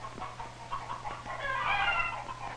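A large flock of farm chickens in a chicken yard, clucking and chattering at moderate distance over a steady low background hum from a 1950s recording.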